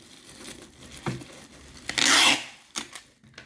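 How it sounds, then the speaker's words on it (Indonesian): Packing tape pulled and torn off the roll while wrapping plastic around a rice cooker for shipping, a loud ripping burst near the middle with shorter crinkles and rubs around it, close by. "kita kasih lakban di ujung plastiknya seperti ini."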